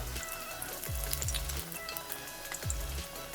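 Masala vada patties frying in a pan of hot oil, a steady soft crackling sizzle with scattered pops, close and moderately loud, with no voices over it.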